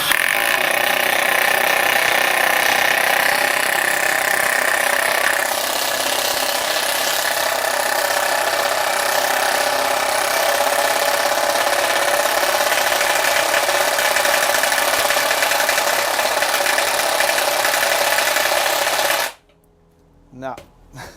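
A Makita 140 impact driver drives a screw into wood with no pre-drilled hole, making a loud, continuous hammering rattle and motor whine for about nineteen seconds before stopping abruptly.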